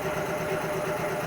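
A Nissan March BNK12 with a CR14 engine, automatic transmission and 99,000 km on it, runs at idle with an even, close, rhythmic low hum and no voices.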